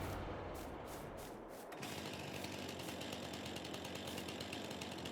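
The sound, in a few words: chainsaw in the video game Farming Simulator 22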